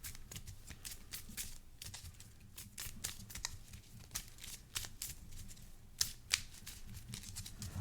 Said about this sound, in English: I'll shuffle that into my deck.